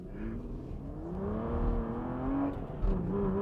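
Aston Martin V12 Vantage with a manual gearbox, its V12 engine revving and pulling hard from inside the car, a continuous rising and falling engine drone with no talking.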